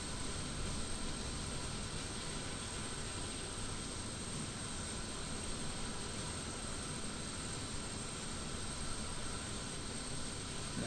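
Antonov An-225 Mriya jet engine starting up in Microsoft Flight Simulator 2020, a steady, dense, close roar of broadband rushing noise that holds evenly throughout with no pauses.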